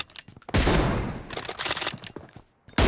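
Rapid bursts of gunfire in a PUBG team deathmatch, loud and dense with sharp repeated shots in quick succession, a short lull near the end, then another burst.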